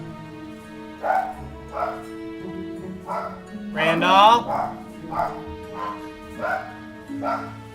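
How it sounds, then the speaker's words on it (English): A dog barks and yips in short bursts, repeating throughout at close range over a cold, salty seaside setting, mixed with a man's speech and a louder burst of activity midway. "What you barking at?"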